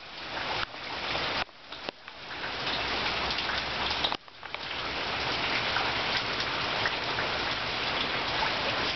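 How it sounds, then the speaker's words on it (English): Steady rain pours down in a dense, continuous hiss, with a few brief dips in the sound. "It's actually raining."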